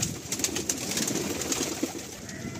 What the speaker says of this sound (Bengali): খুব চতুর হয় এই পায়রাগুলো